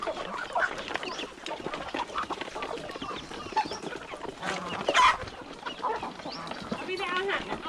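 Chickens being fed cluck and squawk busily at close range, a continuous mix of overlapping bird calls while a person talks over them.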